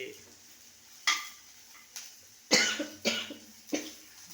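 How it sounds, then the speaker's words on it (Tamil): Several sharp coughs from someone who is unwell, one alone then a quick cluster of three, close by with faint kitchen clatter in the background while capsicum and potato stir-fry cooks. "இருமல் வந்துருச்சா"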